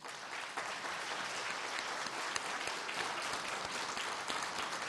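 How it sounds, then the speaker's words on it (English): An auditorium audience at an election forum applauds city council candidates with steady, full applause that holds evenly for the whole stretch, with no voices on top. "ladies and gentlemen, here in our audience, please a round of applause"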